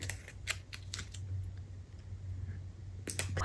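Scissors snipping fantasy-themed decorative tape for a journal page, a few sharp close clicks and snips, a pause, then a quick cluster of cuts at the end.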